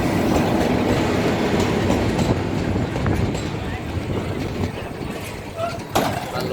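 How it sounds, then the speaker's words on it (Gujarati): A train pulls into Gir Gadhada railway station with a steady, loud rumble of rolling wagons and clattering wheels that eases slightly toward the end, with voices murmuring faintly in the background. "રેલગાડી આવે છે ગઢડા"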